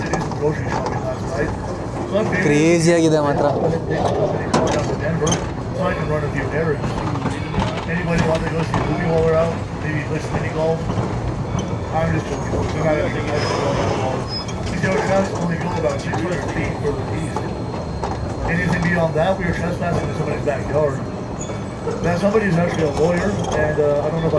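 A vintage train on the Georgetown Loop Railroad in Colorado rolls along with a steady mechanical rumble and clatter, running continuously under nearby people talking.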